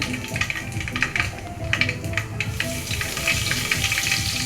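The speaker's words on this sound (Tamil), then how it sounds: "போட்டு நல்லா வதக்கட்டும். கொஞ்சம் பெருஞ்சீரகமும் சேர்த்துக்கலாம்." Whole spices and fennel seeds frying in hot oil in a pan for tomato rice made with seeraga samba rice, giving a close, continuous crackling sizzle with light spattering pops throughout.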